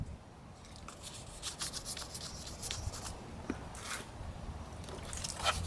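Sanding peeling clear coat off a 2009 Toyota Corolla door handle: close, uneven rubbing strokes of abrasive on the handle, quiet and rhythmic, with no talking.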